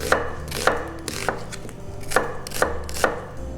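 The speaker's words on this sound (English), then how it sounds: "we need half of medium-sized onion, and we're just gonna cut them roughly big, like so" A knife roughly cuts half of a medium-sized onion into big pieces on a cutting board, about seven sharp, close chops at an uneven pace with no talking.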